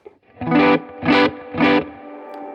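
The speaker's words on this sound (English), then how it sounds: "I'll let you hear it when I run some overdrive" Yamaha Revstar electric guitar run through a Spark booster for overdrive, three sustained, gritty chords struck in slow succession and left ringing, loud and close, no voices.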